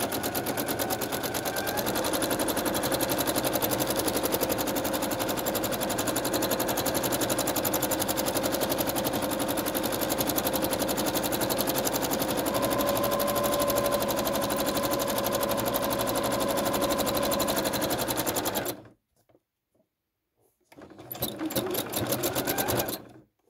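A sewing machine doing free motion embroidery on dissolving film runs loud and steady with a fast mechanical hum, then stops abruptly, pauses briefly in silence, and restarts for a short final burst.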